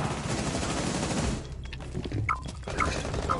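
Gunfire in Rainbow Six Siege as a player shoots up through a roof, a dense rapid burst of automatic fire that gives way to scattered single shots and impacts.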